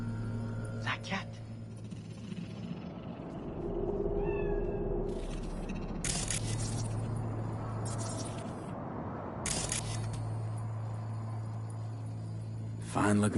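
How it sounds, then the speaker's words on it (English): A cat meows a few times inside the Night City setting of Cyberpunk 2077, set against game music and ambient noise, with brief bursts of sound effects around it. "Fine-looking feline."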